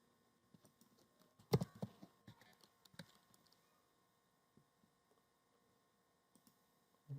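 Close, quiet bursts of typing on a computer keyboard as a command is entered: a cluster of quick key taps early on, a few scattered clicks, then near silence with a last keystroke.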